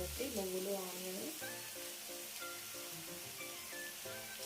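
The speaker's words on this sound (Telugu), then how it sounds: "చక్కగా ఆయిల్లో ఫ్రై చేసుకోవాలి." Onions and sesame seeds frying in hot oil make a steady, soft hiss with faint crackle throughout, quiet and continuous with no voices over it.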